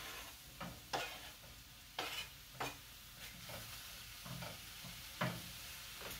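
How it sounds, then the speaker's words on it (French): Sliced mushrooms in a frying pan, a quiet background sizzle broken by a few sharp scrapes and stirs, close but faint, with no voices. "On va couper les champignons en lamelles. Et maintenant, on ajoute ça dans la poêle."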